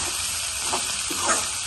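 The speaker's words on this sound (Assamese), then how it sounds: "চব্জিটো ভাজি" Vegetables fry in a pan for a Maggi noodle dish, making a soft, steady sizzling hiss across the short moment, with a slight stir-like flare near the end.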